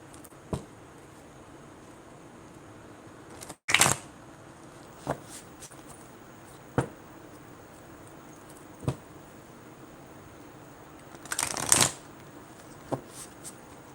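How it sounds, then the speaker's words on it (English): Tarot cards being shuffled in bursts of papery riffling and flicking, a sharp burst near the start and a longer one later, with soft taps between them in a quiet room. "these cards are so freaking hard to shuffle"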